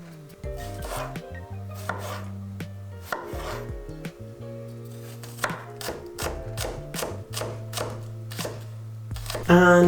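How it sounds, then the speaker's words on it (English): Knife dicing garlic on a cutting board for a vegan onion-mushroom dish, a run of crisp, close chopping taps in quick bursts with short pauses, over steady background music. "And then also going to dice the garlic."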